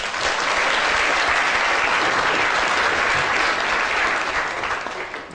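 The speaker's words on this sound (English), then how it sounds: "Round of applause for Albert Einstein." Sustained, dense applause from a lecture audience fills the hall at full strength for several seconds, then begins to fade slightly near the end.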